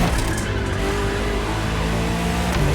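A luxury hypercar with four-figure horsepower roars in the racing game The Crew Motorfest. Its engine holds a loud, steady, close drone for the whole stretch, with no voices over it.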